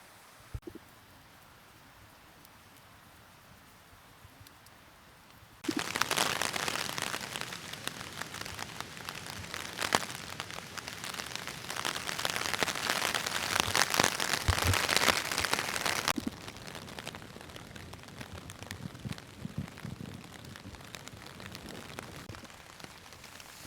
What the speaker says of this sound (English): As you can tell, it's still raining a little bit.